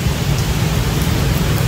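Heavy storm rain in Saigon, a dense, loud, continuous roar of downpour with no pauses or voices.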